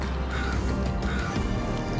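Crows caw by the water in Vancouver, harsh repeated calls over steady wind and ambient noise, fairly distant and continuous.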